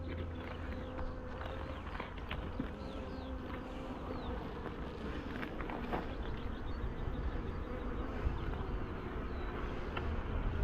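Honeybees hum steadily around an opened hive during a calm April apiary inspection, a dense continuous buzz with no one speaking over it.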